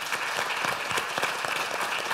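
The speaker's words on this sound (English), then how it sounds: "So I want to say a round of applause to you guys." Audience applause at the close of an agriculture panel session, a moderate crowd clapping steadily with individual claps standing out.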